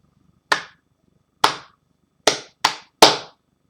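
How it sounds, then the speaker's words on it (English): Five sharp, isolated hand claps ring out one at a time with uneven spacing. The last three come close together, each crisp and fairly loud against silence. "After a few seconds, Lumiere clapped his hands"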